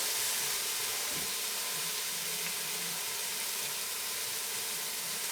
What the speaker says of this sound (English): we're just gonna brown each one of these pieces on all 4 or 6 sides